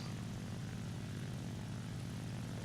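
A propeller aircraft engine drones steadily in the War Thunder flight game, a faint, even rumble with no talk over it.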